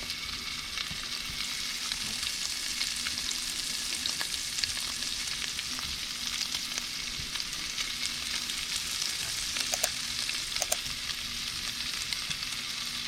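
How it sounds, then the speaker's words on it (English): Bite-sized Italian sausage balls fry in a hot pan with onions and peppers, making a constant close crackling sizzle with occasional small pops and no talking. "Let that cook and turn nice and brown. The Italian sausage and all of the onions and peppers."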